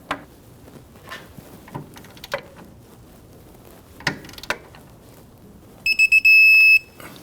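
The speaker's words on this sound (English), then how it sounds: "We're going to torque that down to 72 foot-pounds as well." A torque wrench tightens a camber link bolt on the rear suspension of a 2005-2010 Chrysler 300. Scattered sharp mechanical clicks give way to a steady electronic beeping near the end, with no talking.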